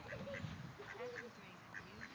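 A mallard duck gives soft, scattered quacks, faint and somewhat distant, under quiet voices talking nearby.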